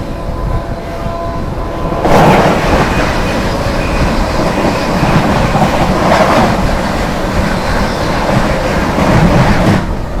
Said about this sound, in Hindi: Gorakhdham superfast express